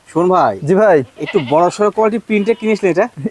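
A Beetal goat buck on a goat farm bleats loudly and close, a long string of quavering calls in quick succession with brief gaps between them.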